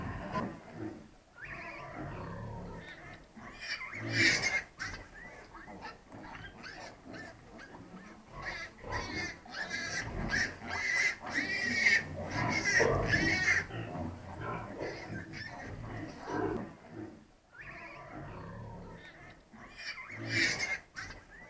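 White and spotted piglets with a sow grunt, squeal and oink on and off in a pen, a busy mix of close, overlapping animal calls rising and falling in bursts.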